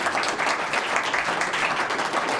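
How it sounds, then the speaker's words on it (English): An audience at a House event applauds Rep. Chris Smith with dense, even clapping that holds steady through the short moment. "just give Chris Smith a round of applause"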